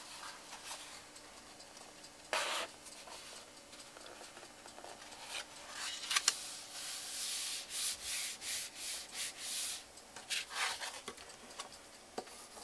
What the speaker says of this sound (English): Burnish